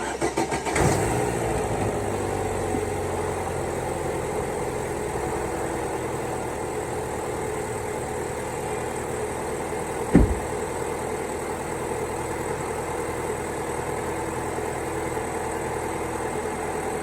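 A 2011 Chevy Cruze engine cranks and catches with a sharp burst, then settles into a steady, even idle, with one brief rev or clunk partway through.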